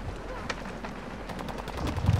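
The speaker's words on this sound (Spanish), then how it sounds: "Escucho tiros." In the video game Call of Duty Modern Warfare 2, gunfire crackles in scattered shots, somewhat distant, with a burst of heavier firing toward the end.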